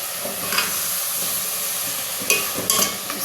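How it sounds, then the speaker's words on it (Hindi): Vegetables sizzle steadily in hot oil in a home kitchen, a close, constant crackling hiss broken by a few brief louder bursts as the pan is stirred, with no voices. "ये मैंने तेल में सब्ज़ी डाल दी है"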